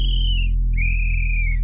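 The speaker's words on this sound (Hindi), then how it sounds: "फिर से जैसे ही चौकीदार सीटी बजाता है" A night watchman's whistle in an animated comedy blows two loud, sustained shrill blasts, the second longer, over a steady low hum.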